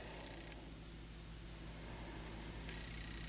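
Cricket chirping in short, regularly spaced high bursts about every half second, faint over a low steady hum, no voices.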